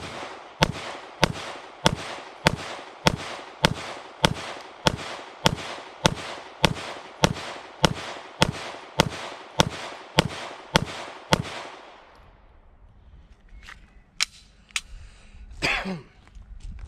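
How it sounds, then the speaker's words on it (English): A Roland Special Agency Arms 417 pistol fires 135 grain HST rounds at 7 yards in a rapid, evenly spaced string of about nineteen sharp shots. The string stops abruptly, followed by quiet and a brief voice. "So this is gonna be 19 rounds of 135 grain HSTs at 7 yards."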